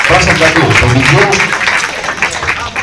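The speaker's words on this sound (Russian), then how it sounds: "Я считаю, что в любом случае это человек достоин дополнительных аплодисментов." Applause for the fifth-place winner at a Mafia game championship awards ceremony, a dense wash of clapping from a crowd that carries on steadily while someone talks over it.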